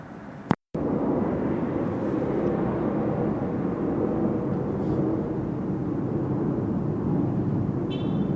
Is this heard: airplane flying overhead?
yes